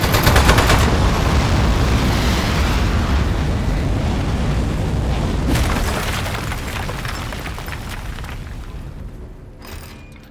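Sustained rapid gunfire and booming blasts in the video game Aperture Desk Job, a loud, dense barrage lasting ten seconds that fades slightly toward the end.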